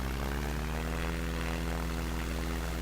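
Steady propeller plane engine droning at takeoff power in SimplePlanes, a loud continuous hum with layered harmonics and no talking.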